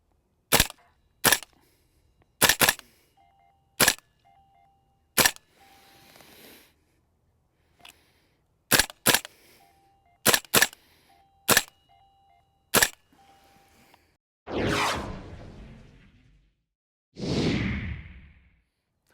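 Three airsoft recoil guns fire in turn, close and sharp: single and paired snapping shots with mechanical clacks between them, then two longer whooshing bursts near the end, with no talking.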